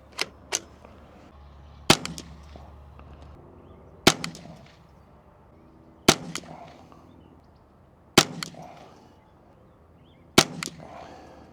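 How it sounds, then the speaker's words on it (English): Sharp gunshots from a custom Ruger 10/22 semi-auto .22LR bench rest rifle, fired at a range in a steady string of single cracks about two seconds apart, with a couple of quicker doubled shots at the start. "now we're going to shoot a couple more 5-shot groups."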